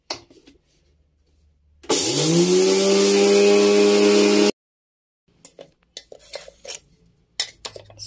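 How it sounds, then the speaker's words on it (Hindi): A kitchen mixer grinder loudly grinds whole spices for homemade radish, carrot and green chilli pickle in one steady burst of about three seconds, then stops abruptly, followed by light clinks and handling noises. "अब ये मसाले हम इसमें ग्राइंड कर लेते हैं, तो अब इसे झट से ग्राइंड कर देंगे"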